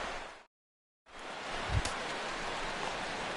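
Steady rain hiss over a ballpark during a Cardinals at Pirates game in the baseball video game MLB The Show 16, with a brief cut to silence and a low thump partway through.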